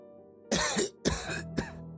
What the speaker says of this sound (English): Phlegm-ridden coughing erupted from behind.